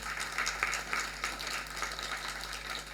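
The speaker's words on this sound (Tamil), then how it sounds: "ஒரு பெரிய கரகோஷத்தை அவருக்கு கொடுக்கணும்" Fairly quiet applause from an audience at a nadaswaram music festival, even clapping throughout over a low steady hum.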